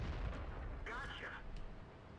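Heavy tank cannon fire in World of Tanks, a deep booming blast within a dense rumble of battle noise, with voices talking over it.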